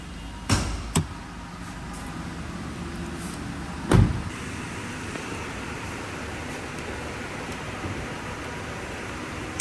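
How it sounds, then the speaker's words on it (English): A few sharp clunks and a louder thud from the hood latch and release of a 2024 Toyota Innova Zenix, spaced over several seconds against quiet outdoor background noise. "Let's go and pop the hood."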